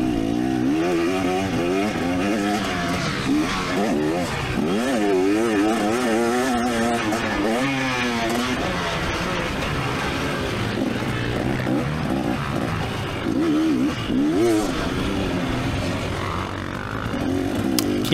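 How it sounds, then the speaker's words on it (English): Motocross dirt bike racing on a track in hot weather, its engine loudly revving and changing pitch through rising and falling gear pulls, with steady continuous engine roar throughout. "the bike's making more power in second gear"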